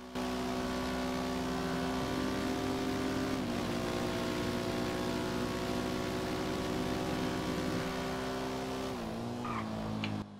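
A tuned motorcycle engine in the video game GTA Online holds a loud, steady high-revving drone for several seconds, then drops and cuts off near the end.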